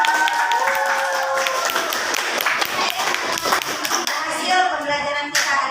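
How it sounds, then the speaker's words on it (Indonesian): A group claps together in steady, continuous applause, fairly loud and close, with a few voices mixed in. "Tepuk tangan."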